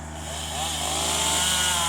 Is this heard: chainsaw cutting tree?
yes